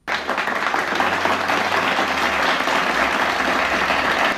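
A church congregation applauding in worship, steady, dense clapping from many hands that fills the space loudly and continuously from start to end.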